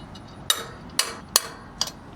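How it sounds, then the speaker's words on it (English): Four sharp metallic clanks spaced roughly half a second apart, each a crisp bright snap over a quiet background, as a hole punch bites through steel. "hole punch, and let's punch some holes."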